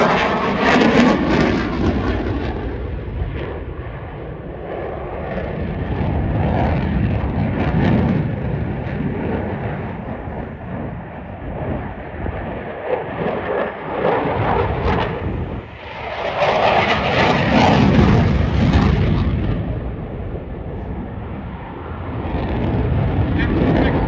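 A Typhoon FGR4 jet flies at the Duxford air show, its loud roaring engine swelling and fading as it passes, with a second powerful surge later in the run.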